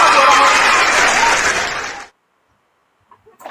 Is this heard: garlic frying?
no